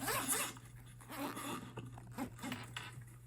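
A tool bag's zipper is pulled in several quick rasping strokes, close by, over a faint low hum.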